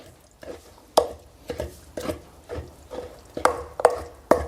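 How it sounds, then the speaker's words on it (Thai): A pestle pounds Thai eggplant salad in a mortar, with about a dozen sharp, evenly spaced thuds, some with a faint clack, repeating steadily and close by with no talking. "ใช้สากนี่แหละครับบดบี้ให้เข้ากันก่อน"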